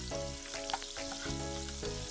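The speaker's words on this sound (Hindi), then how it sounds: "अब इसमें हम चॉप किया हुआ प्याज और अदरक लहसुन डाल देंगे।" Steady sizzling of chopped onion, ginger and garlic frying in hot oil for chicken curry, a continuous crackling hiss with faint clinks, close and moderately quiet.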